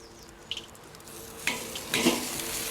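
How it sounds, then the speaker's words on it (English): Steaks sear over a blazing outdoor fire pit, giving a soft crackling sizzle with a few sharp pops and a swelling burst near the end, heard alone without voices. "Our pit is lit, the fire is raging, and our steaks now must be seared."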